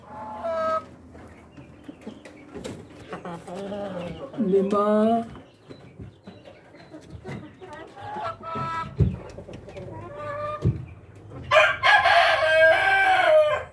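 Rhode Island Red rooster crowing and hens clucking inside a breeding cage on a farm, several crows rising over one another with a louder burst near the end, someone talking intermittently in between.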